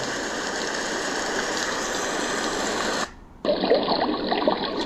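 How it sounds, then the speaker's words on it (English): A loud, bright rainstorm with dense, steady hiss and patter. It drops to near silence briefly around the three-second mark, then resumes with a slightly thinner but continuous downpour. "There's a nice, bright, loud rainstorm."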